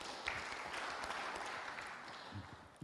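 Church congregation clapping during a worship service, a steady broadband patter of many hands filling the room for about three seconds with no talk over it.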